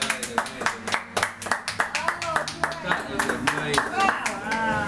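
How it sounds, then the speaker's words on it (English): Scattered, uneven hand claps from a small audience at a chocolate autumn dessert presentation, sharp and close, with voices and cheering mixed through them. "Can we have a round of applause, everybody?"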